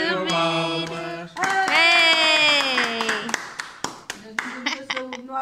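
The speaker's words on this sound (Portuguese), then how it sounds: "Parabéns, Ana Maria, uma salva de palmas" A small group at a birthday party claps briskly over and after singing voices. The claps sound as dense, sharp taps that thin out toward the end.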